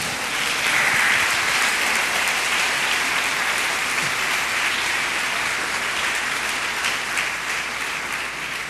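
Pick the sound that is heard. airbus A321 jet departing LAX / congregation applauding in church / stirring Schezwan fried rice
congregation applauding in church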